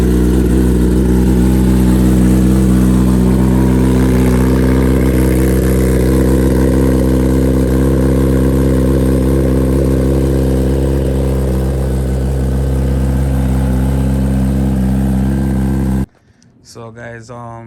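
A 2023 Kawasaki ZX10R motorcycle engine runs loud and close, holding a steady rumbling idle with slight rises in revs before cutting off abruptly, after which a voice speaks briefly.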